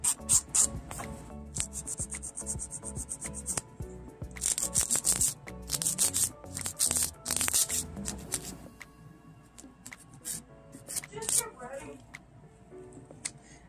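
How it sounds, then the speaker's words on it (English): Acrylic nail tips being shaped with a nail file, a run of quick, close rasping strokes in uneven bursts that thin out midway into lighter scratches, while a person talks alongside. "Now I'm gonna start filing."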